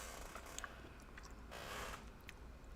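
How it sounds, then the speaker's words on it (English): Boba pearls from Hokkaido milk tea being chewed, soft irregular squishy bites and crunches close to the mic, faint and alone. "Oh no, you have to hear me chew."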